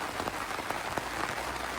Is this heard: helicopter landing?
no